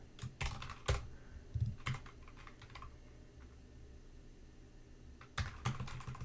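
Bursts of computer keyboard typing during live coding in the BQN language, clustered rapid keystrokes near the start, around two seconds and again toward the end, with quieter scattered clicks between.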